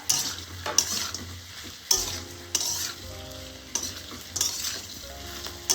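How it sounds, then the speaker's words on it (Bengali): Pieces of fried chicken sizzling with onion and capsicum in a pan, a steady hiss broken by scraping stirs and clinks of a utensil against metal, close and loud with no talk. "ভালোভাবে ভাজা ভাজা করে নেব।"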